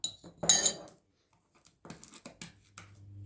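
Metal utensil clinking against a bowl while batter made with baking soda is stirred, a bright burst of clinks early on followed by quieter intermittent taps and scrapes, close up.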